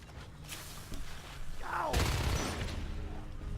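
Pistol fire from the game Natural Selection 2 cracks out in quick shots over a steady battle din, with a brief sweeping effect partway through and a busier, louder stretch of gunfire toward the end.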